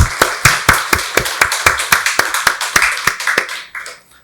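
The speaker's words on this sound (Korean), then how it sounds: "박수로 하나님께 영광 돌리겠습니다." A Korean church congregation at a Christmas Eve Sunday service claps in unison, about twenty sharp, evenly spaced beats at a brisk steady rhythm, then trails off into a few scattered claps.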